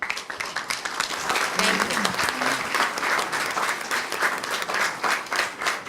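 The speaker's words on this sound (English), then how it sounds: "Big round of applause, please, for Lara Sawaya." Audience applause fills a press conference at an exhibition hall, steady and dense for the whole stretch, with a few faint voices mixed into the clapping crowd.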